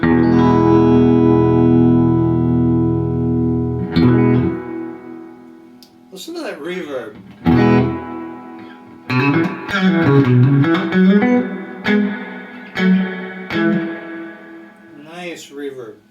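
Electric guitar played through a Louis Electric Columbia amp with reverb: a sustained ringing chord that decays, then a run of picked notes and chords with a reverb tail, loud and close.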